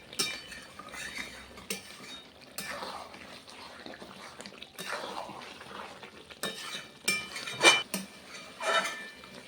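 Mutton being sautéed in an uncovered pot, with a soft sizzle under intermittent spoon scrapes and metallic clinks against the pot, near and irregular.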